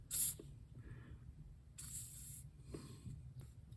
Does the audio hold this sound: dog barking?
no